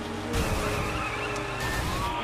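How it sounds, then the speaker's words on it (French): Tires skid and squeal under a roaring car engine during a police chase in The Crew racing game, the screech sustained and loud throughout with a brief burst of engine noise near the start. "On a des unités qui poursuivent une voiture folle."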